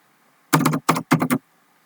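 Short clusters of clicks on a computer keyboard, three quick bursts of keystrokes close to the microphone with quiet before and after.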